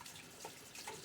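Running tap water during a quick face rinse after a shave, a faint, steady wash of splashing water close by with no speech.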